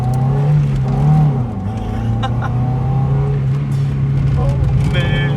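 A 1995 Mazda Miata with a swapped intake idles with a steady low, uneven rumble close by, with faint higher whines and clicks over the top and people talking nearby.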